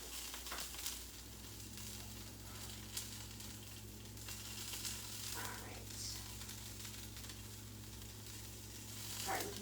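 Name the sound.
food sizzling in a frying pan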